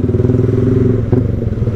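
A Yamaha R15 v3 motorcycle with an open pipe exhaust idles loud and close, a fast throbbing rumble with a brief clatter near the middle.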